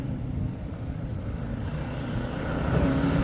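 Small cyclekart engines drone and buzz at a distance as they lap a yard, a continuous motor hum that swells slightly louder toward the end, with no talking.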